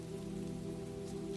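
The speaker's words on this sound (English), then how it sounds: "The rain continued." Steady rainfall on a quiet courtyard in Florence, a continuous soft hiss with a low droning hum beneath, unbroken throughout.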